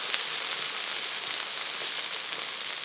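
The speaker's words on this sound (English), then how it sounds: "That's the tomato cooking." Chopped tomato frying in a hot pan for a Filipino bitter melon and egg dish, giving a steady, close, even sizzle with no pauses and no one talking.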